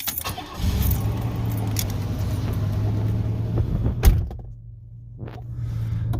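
1990 Cadillac Coupe Deville with 4.5L V8 cranks and starts, keys jangling first, then a steady engine drone with a brief dip before settling into idle, close and without talk.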